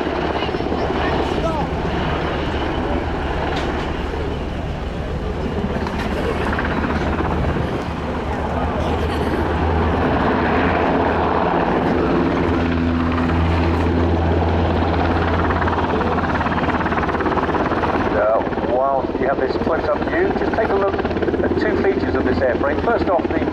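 A German Army Aviation NH90 TTH helicopter flies at the RIAT 2022 air show, its rotor and engine a loud, steady, throbbing roar that carries on throughout, with a commentator speaking over it.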